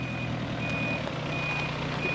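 A lorry reverses on a farm lane, its reversing alarm beeping at an even pulse over a low idling engine rumble, with no talk.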